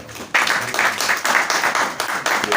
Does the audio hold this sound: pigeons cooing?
no